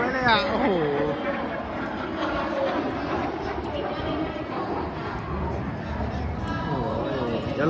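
A Singapore air force F-16 fighter flying at a Children's Day air show at an air base at Nam Phong gives a continuous, fairly distant engine roar beneath nearly constant close talking.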